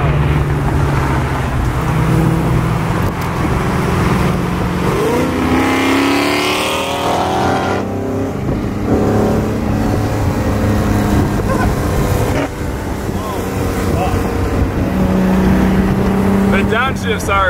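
A straight-piped Mercedes C63 drives at night with a loud, continuous exhaust drone that rises and falls through shifts, heard up close with talk mixed in.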